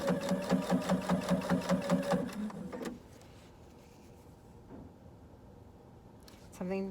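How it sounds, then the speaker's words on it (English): A sewing machine stitches a drawstring in a rapid, even run of mechanical clatter for about two seconds, then stops, leaving quiet handling noises and a brief whirr near the end. "This machine just sounds weird right now"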